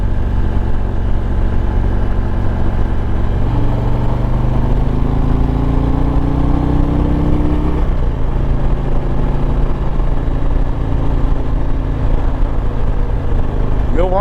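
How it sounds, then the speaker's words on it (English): A 2021 Harley-Davidson Road Glide Limited with a Milwaukee 8 engine rides down the road with a steady, loud low rumble and wind roar. Engine tones rise as it accelerates and shift as it changes gear. "Milwaukee 8 definitely wakes up on a road like this."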